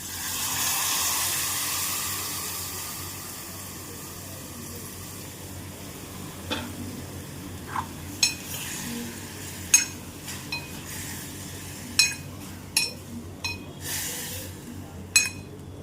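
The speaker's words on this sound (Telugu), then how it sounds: "తర్వాత ఉడికిన కందిపప్పు కూడా వేసేసి మంచిగా కలిపేస్తాను." Raw banana pieces and cooked toor dal for a Kerala koot being stirred in a pot, with a soft simmering hiss and a series of sharp spoon clinks against the metal pot, growing more frequent toward the end, without speech.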